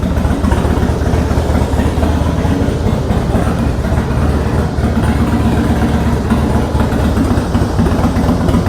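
A cold 2003 Harley-Davidson FXST with Vance & Hines Big Shots exhaust idles loudly and steadily up close, a continuous deep rumble with no talk over it.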